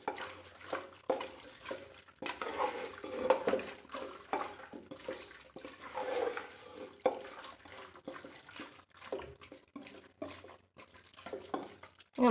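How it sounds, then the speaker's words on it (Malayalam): Curry leaves are stirred into Kerala-style beef curry in a cooker, giving soft wet scraping and sloshing strokes in an irregular rhythm, fairly quiet and with no talking. "കറിവേപ്പില ഇട്ട് കൊടുത്തിട്ട് ഞാൻ നല്ലോണം ഒന്ന് മിക്സ് ചെയ്ത് കൊടുക്കാം"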